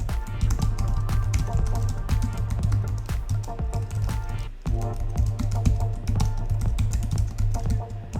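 Rapid typing on a computer keyboard while writing a headline, a dense continuous clatter of key taps with a brief pause midway, close and steady.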